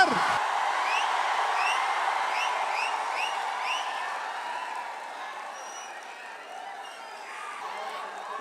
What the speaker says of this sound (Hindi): जोरदार तालियों से स्वागत कीजिए अवध ओझा सर